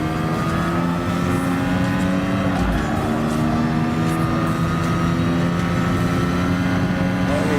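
Ayrton Senna's Lotus 97T race car in Gran Turismo Sport, a steady, loud engine drone holding a sustained harmonic tone under light throttle, continuous and close throughout.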